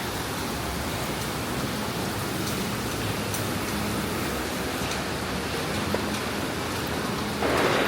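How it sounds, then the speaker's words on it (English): Dense, steady rain pours down loudly and evenly in Florida, a constant broadband hiss with no pauses, growing slightly brighter at the very end. "Wow, look there, how much rain's come down."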